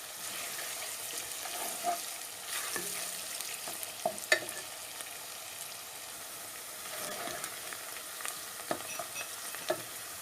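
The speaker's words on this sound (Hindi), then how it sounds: "4 मिनट हो गया मुझे इसको ऑनियन को फ्राई करते हुए" Chopped onions frying and sizzling in hot oil in a pan, a soft continuous crackle with occasional sharper pops and stirring sounds, fairly quiet and close, with no talking.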